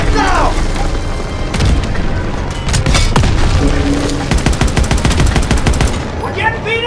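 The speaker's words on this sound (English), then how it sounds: "Enemy tank destroyed!" A tank blown apart in a Call of Duty: WWII battle, a loud booming blast amid rattling machine-gun fire and scattered gunshots, with shouting voices over the din.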